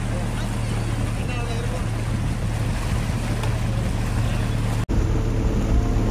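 A boat ride on the Kadam project reservoir gives a steady, loud motor drone with rushing water and wind, continuous and close throughout, briefly cutting out near the end.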